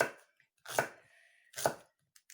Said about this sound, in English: Right now I'm just slicing up some celery.